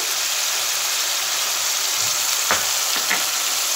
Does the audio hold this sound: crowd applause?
no